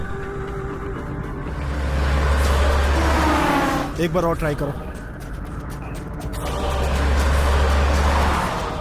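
A car speeds along a road, its engine hum swelling and fading in two long surges, with someone speaking briefly in the middle over the road noise.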